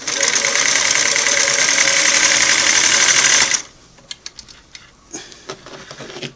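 A Singer Model 347 sewing machine stitches a zigzag in a fast, steady mechanical chatter for several seconds, then stops abruptly, leaving a few faint clicks and knocks as the machine is handled.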